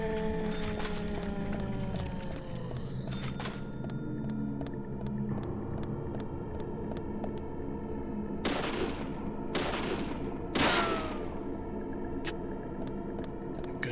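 Gunshots in the game Deadly Premonition come as a few sharp, bright cracks spaced several seconds apart, the strongest cluster past the midpoint, sitting over a steady bed of game music and ambient hum.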